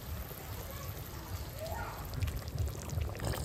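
Water is poured into a cooking pan of stuffed pointed gourd curry, a soft continuous pouring and trickle that swells toward the end, with faint kitchen background.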